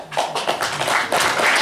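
Brief clapping from a lecture audience, a quick run of fairly loud, close hand claps lasting under two seconds.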